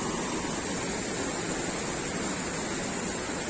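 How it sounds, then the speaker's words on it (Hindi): A river flows near Kothi village in Manali in the Himalayan foothills, heard as a constant, even rush of water, fairly faint and steady throughout, with no voices. "ये सामने से बिल्कुल ये नदी बहते हुए"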